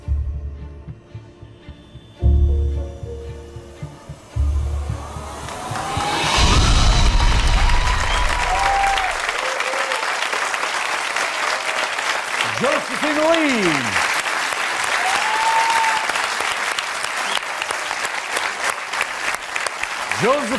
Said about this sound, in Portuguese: poderão finalmente receber o seu merecido aplauso